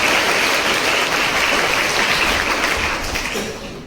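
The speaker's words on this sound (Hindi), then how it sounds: "एक जोरदार तालियां हमारी मैम के लिए" Loud, dense audience applause during a nursing community visit on oral hygiene, continuous clapping close by that tapers slightly toward the end.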